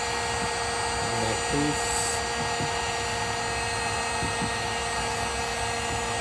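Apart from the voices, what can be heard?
heat gun heating a plastic car bumper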